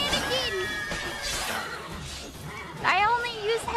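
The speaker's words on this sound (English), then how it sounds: "This horse Roach" Horse neighing in The Witcher 3, a couple of whinnies amid game sounds while a person talks over them.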